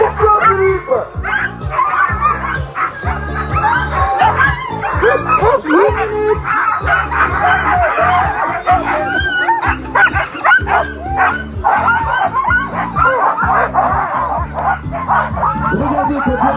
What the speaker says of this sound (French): les chiens s'excitent un peu plus.